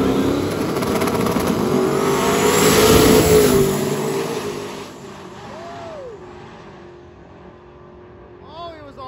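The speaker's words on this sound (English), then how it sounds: "Stefan is up in the Corvette" A Corvette makes a loud drag racing pass at a Sick Week event, its engine revving up and accelerating hard before fading into the distance, with a commentator talking over it.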